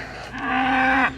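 A cow on a farm pasture gives a single loud, close moo of just under a second, rising and holding steady before cutting off, with no voices.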